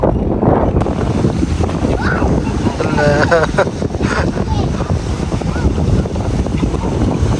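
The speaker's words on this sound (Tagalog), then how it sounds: "Lakas ng hangin." Strong wind buffets the microphone with a constant low rumble, while people talk and a few bird calls sound through it.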